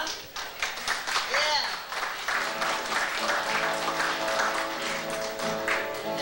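An audience applauds at Margaret Ann's 50th birthday celebration, a scattered burst of clapping mixed with cheers and people talking over it throughout.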